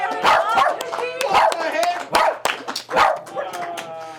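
A dog performing in a stage act gives a series of barks and yips at an even pace, close and fairly loud, mixed with a person speaking.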